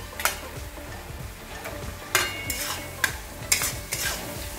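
Chopped tomato stirred into a spice paste frying in a pan, with a soft sizzle underneath and several sharp clinks and scrapes of a spoon on the pan at irregular intervals, close by and with no talking.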